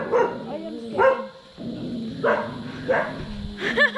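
Several dogs, including a Dalmatian and a border collie mix, bark and yip in short bursts nearby during an outdoor walk, with some whimpering between barks.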